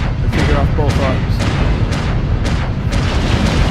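Heavy mech autocannons in the MechWarrior Online game fire in a rapid series of about eight loud booming blasts roughly half a second apart, close and dominant.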